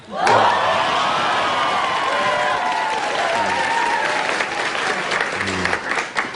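A live broadcast audience bursts into sustained applause, loud clapping holding steady for several seconds before tapering off, with scattered laughter mixed in.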